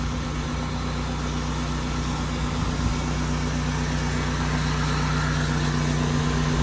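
A pressure washer running steadily at a few hundred PSI during exterior house washing outdoors, a constant loud engine drone with a low hum and a wide, even spray hiss, unbroken throughout.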